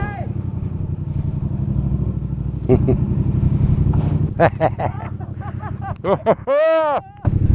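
A motorcycle engine idles and revs steadily in the foreground, rising in pitch toward the end, with people talking over it and some wind noise.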